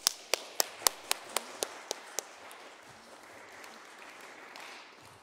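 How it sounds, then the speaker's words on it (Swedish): About eight sharp, evenly spaced claps ring out in a church during a concert, each with a reverberant tail, then give way to a quiet, roomy hush. "men låt oss först välkomna den med en varm applåd."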